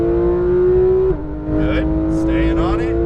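A Porsche 911 GT3 RS engine pulls hard at full throttle on a race track, a loud, steady rising tone that breaks for a quick gear shift and then climbs again while someone talks over it.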